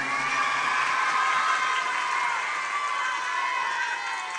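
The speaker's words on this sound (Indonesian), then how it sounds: "Tepuk tangan anak-anak untuk Bupati kita yang keren." A crowd of children cheers and shouts for the regent at a public gathering in Kebumen, a dense, lively roar with applause that holds steady and then eases slightly.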